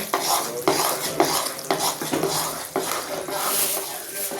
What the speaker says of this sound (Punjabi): ਹੁਣ ਅਸੀਂ ਜਿਹੜੇ ਮਗਜ਼ ਤੇ ਖਸਖਸ ਭੁੰਨੇ ਸੀਗੇ ਉਹਨਾਂ ਨੂੰ ਮਿਕਸ ਕੀਤਾ ਪੰਜੀਰੀ 'ਚ